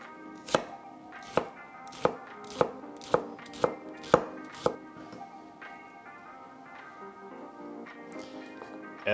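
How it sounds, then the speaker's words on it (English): A knife finely chops half a shallot on a board in eight sharp, evenly spaced chops, with a faint musical background continuing after the chopping stops. "And I'm only going to use half a shallot. Very finely cut."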